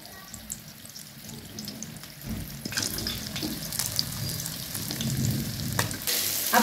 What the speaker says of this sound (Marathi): एकदम बारीक गॅसवरच आपल्याला तळायचे, लय फास्ट गॅसवर तळायचं नाही, कारण आपली मच्छी अख्खी आहे